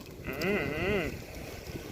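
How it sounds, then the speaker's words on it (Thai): A goat, seen among other animals on a sandy seashore in an animated scene, gives one loud wavering bleat near the start, followed by quieter low background rumble. "นี่ก็เป็นแพะนะครับ"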